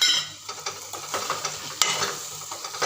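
Aloo chole masala sautés in a pan with a close, lively sizzle while a spoon stirs and scrapes it in quick, irregular strokes, with one brighter clink midway.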